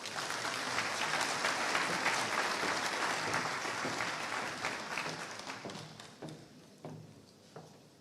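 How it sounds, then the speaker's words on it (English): Audience applause fills a hall at a world education congress, a dense, steady wash of many clapping hands that gradually thins and tapers off toward the end, leaving a few scattered claps. "Another round of applause for Mrs."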